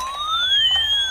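A toy ambulance siren wails alone in a continuous electronic tone, rising and falling in a steady sweep, close and fairly loud.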